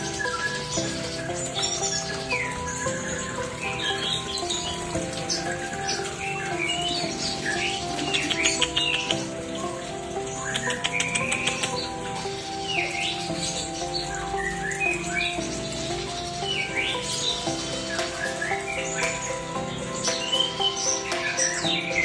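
Caged songbirds in breeding cages, including magpie robins, brown cililin and cucak jungkok, call continuously with overlapping chirps, squawks and whistled phrases, a dense busy chorus at steady moderate loudness without speech.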